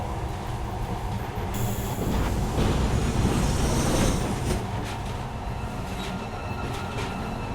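A monorail train in the video game Metro Last Light runs along its track with a steady rumbling roar, metallic clatter and brief high squeals, loud and continuous throughout.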